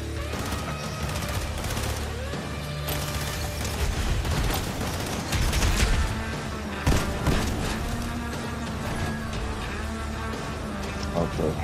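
Gunfire in the Fortnite video game, with rapid bursts of shots and bullets missing, running through the whole stretch alongside mechanical game noise while people talk over it.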